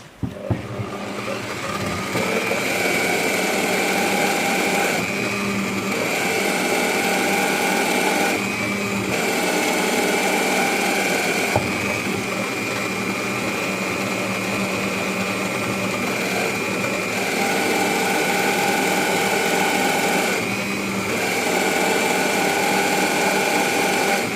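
A drill with a 2 mm bit bores the final holes, running as a steady, even whine in several long passes separated by brief pauses, fairly quiet and close with no talking.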